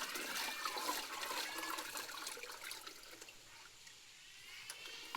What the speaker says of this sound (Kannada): ಇವಾಗ ಈ ಸುಣ್ಣದ ನೀರನ್ನು ಹಾಕ್ತಿದ್ದಾರೆ